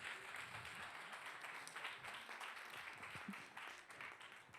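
An audience at an entrepreneurship pitch contest applauds a team's pitch with continuous, even clapping at moderate distance.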